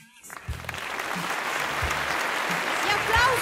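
Audience applause at the Cantagiro 2023 opening night, steady dense clapping from a crowd that builds and holds, with a low voice heard briefly over it.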